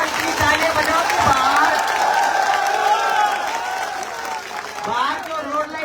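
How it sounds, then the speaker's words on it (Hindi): A crowd claps and cheers steadily at a political rally in Barmer, India, while a voice carries over the applause, the noise swelling and easing slightly throughout. "जोरदार इतनी तालियां बजाओ"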